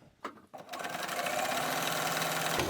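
A sewing machine stitches the elastic waist seam of diamond-hem trousers, starting with a couple of short bursts then running in a loud, steady continuous whir close by.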